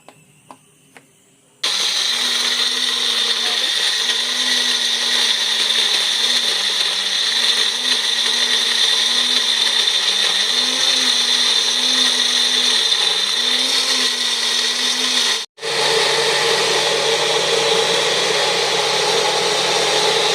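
A household electric mixer grinder whirs into a loud, steady grinding drone after a few soft clicks, runs evenly, stops abruptly for an instant, then starts again at a lower, rougher pitch.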